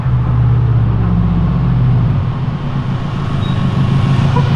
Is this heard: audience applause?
no